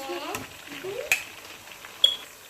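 Garlic, two ground cloves, fries in a pan while chicken pulao is being made, a soft steady sizzle with a few sharp clinks of a utensil against the pan.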